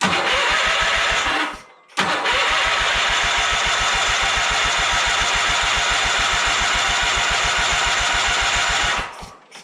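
A John Deere 317 tractor engine cranks with a fast, even rhythmic chugging of the starter, pauses briefly, then cranks on steadily and loudly for several seconds before cutting off.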